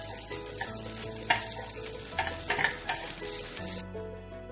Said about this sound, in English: now I am going to add the coconut. Roast the coconut nicely